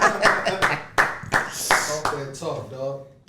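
Hand claps at a podcast recording, a quick series of sharp, close claps over and between people talking.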